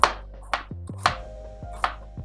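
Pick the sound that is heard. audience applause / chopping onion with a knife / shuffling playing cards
chopping onion with a knife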